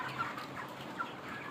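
Chickens on a poultry farm cluck softly in the background, two or three brief calls over a low, quiet ambience, with no speech.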